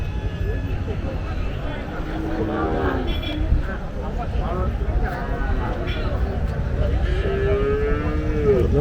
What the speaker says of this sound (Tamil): இங்க ஒரு நாட்டு மாடு